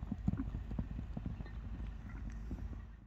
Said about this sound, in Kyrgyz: биздин 3-чү атыбыз келе атат достор